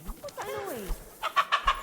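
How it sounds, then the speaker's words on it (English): A hen in the video game Kingdom Come: Deliverance II clucks close and clear, first with a drawn-out, wavering squawk, then a quick run of short rhythmic clucks. "You killed our hen!"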